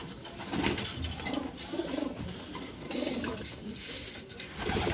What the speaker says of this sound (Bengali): আরেকটি বাচ্চা কবুতর আপনারা দেখতে পাচ্ছেন